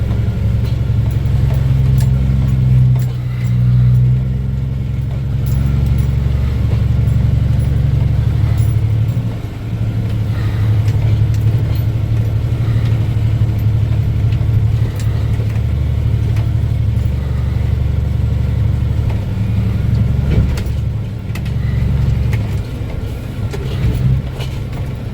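A dump truck rolls slowly over gravel on a track in the woods, heard from inside as a loud, steady low engine rumble with a constant drone and occasional light crunching.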